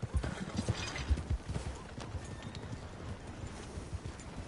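A horse's hooves clip-clop in the video game Red Dead Redemption 2, a fairly quiet, close, uneven trotting rhythm with soft thuds and light clatter under faint ambient noise.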